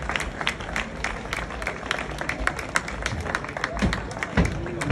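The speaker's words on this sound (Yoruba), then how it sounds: "ẹ bá mi pàtẹ́wọ́ fún Awẹ́" An audience applauds with steady, dense clapping at a ceremony, sustained and fairly loud throughout with scattered sharper claps standing out.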